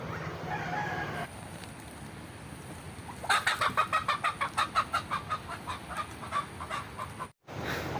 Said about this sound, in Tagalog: Mga native chickens naman 'yan.